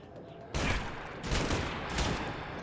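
A video game fires a sudden burst of rapid gunfire, a dense, loud crackling volley that starts abruptly and continues in waves with brief flare-ups.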